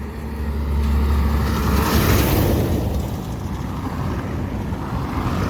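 Vehicles speeding past along a dusty road under construction, a loud rumbling whoosh that builds, peaks and then eases into a steady low drone, with wind buffeting the microphone.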